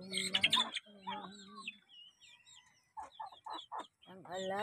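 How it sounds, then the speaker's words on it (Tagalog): Pet chickens and bantams cluck and chirp at close range, with a loud, busy burst of calls at first, then scattered short clucks and a few rising notes in a series of separate bursts. "Ang alaga ko nga manok at bantries, hindi pa sila nakakain."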